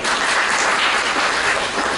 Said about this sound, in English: Let's give a big clap for it.